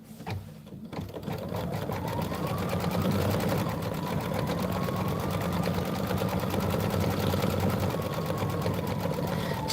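A sewing machine runs continuously while stitching embroidery for a quilt block, a steady fast mechanical whir and rattle that starts after a brief click and holds nearly unchanged to the end.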